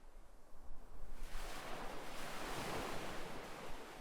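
Ocean waves wash onto a beach in a steady, broad rush of surf that swells after the first second and stays loud and continuous, with some wind noise.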